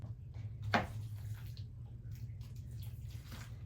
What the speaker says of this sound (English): I'm going to fill this up and give it some water